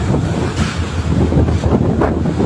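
Strong wind roars and buffets the microphone in heavy gusts near the ship MV Maria Rebecca as it is driven toward collision, with a continuous rushing blast and no voices.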